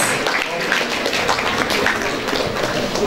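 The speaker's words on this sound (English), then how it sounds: "A huge round of applause." Audience applause at a school literary festival, a dense continuous patter of clapping at moderate loudness that holds steady throughout, with no clear voice above it.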